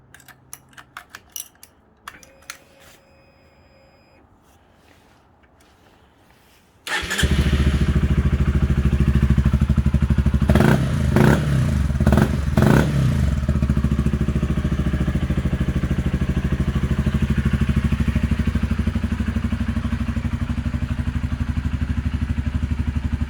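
A red 2011 Honda CBR 125R with a Black Widow aftermarket exhaust starts up after several seconds of quiet clicks and clatter. It settles into a loud, close idle, broken by a burst of sharp revs before it evens out again.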